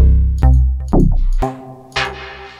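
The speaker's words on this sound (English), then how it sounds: "Here are synth stabs." Four punchy synth stab samples, each a sharp chord hit with a bright attack and a short decay, spaced evenly apart and played alone with no voices.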